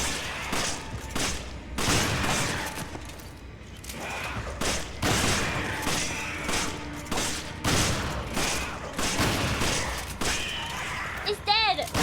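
Repeated gunshots in the video game Resident Evil 5: a string of sharp, loud shots at irregular intervals, mixed with game noise and a voice speaking between them.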